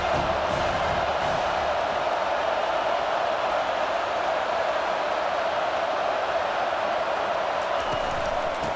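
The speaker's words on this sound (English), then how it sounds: "This crowd bringing the energy and noise early." A large stadium crowd in the video game EA Sports College Football 25 roars in a constant, distant wash of cheering noise that holds steady throughout without breaks.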